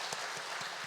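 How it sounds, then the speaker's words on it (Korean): Brief applause from a church congregation cheering its Sunday school teachers during an afternoon worship service, a steady wash of clapping with no voices. "하나님께서 부르신 우리 교사들을 위해서 박수로 응원하도록 하겠습니다"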